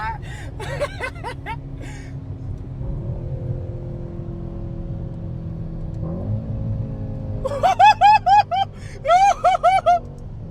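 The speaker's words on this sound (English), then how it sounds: "we're testing the drivability of the C63s and put it on sports" A Mercedes C63s coupé with a twin-turbo V8, driven in sport mode, gives a low steady engine drone with gear-shift steps in pitch, heard from inside the cabin while people talk and laugh over it.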